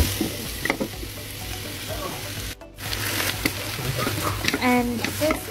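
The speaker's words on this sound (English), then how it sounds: "And mix it until it's all coated" Raw chicken is mixed with black pepper until coated for spicy fajitas, wet squelching and stirring sounds up close with a brief pause midway, while a person talks over it.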